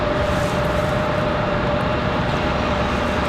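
A Delta jet bound for Detroit takes off from Raleigh-Durham airport in snowy weather, giving a steady, loud broadband engine roar that holds evenly throughout with a faint constant tone above it.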